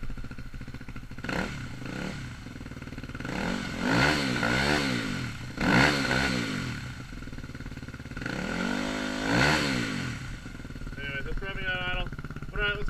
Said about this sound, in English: This is from full, and then we'll go ahead and we'll rev it up.